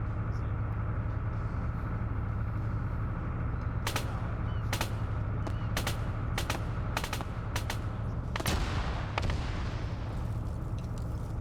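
Gunfire from people shooting: a run of sharp, loud shots in irregular bursts over a steady low rumble, clustered in the middle of the stretch.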